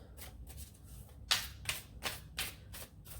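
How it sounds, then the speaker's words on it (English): Tarot cards are shuffled by hand during a reading, several crisp riffling bursts in quick succession, close and fairly quiet with short pauses between them. "I always shuffle to get the cards to come out."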